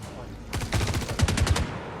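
A rapid burst of gunfire from the video game Star Citizen breaks out after a brief quiet, a close, loud string of sharp shots lasting about a second.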